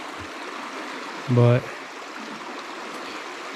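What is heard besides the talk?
flowing creek under a bridge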